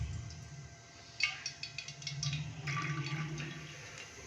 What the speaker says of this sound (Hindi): तो सबसे पहले हम कढ़ाई के अंदर 1 कप कुकिंग ऑयल डालेंगे।